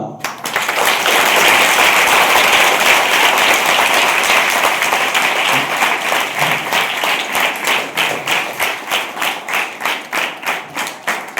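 A crowd at a police drug and cybercrime awareness meeting claps loudly together, the dense applause holding steady before thinning into slower, separate rhythmic claps that fade toward the end, with no talking over it.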